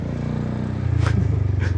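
A Honda Forza 300 scooter with new, not yet bedded-in brakes: a steady engine hum carries two brief scraping squeals from the brakes, close and moderately loud.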